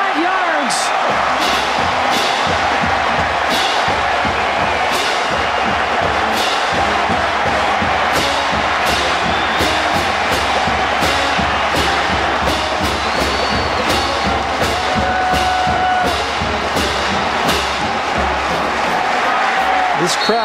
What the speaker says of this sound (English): This crowd now sounds like they're starting to believe.